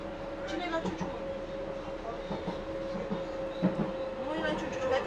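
Docklands Light Railway train running in London, heard from the front car with a steady motor hum and rhythmic rail clatter, while people talk throughout.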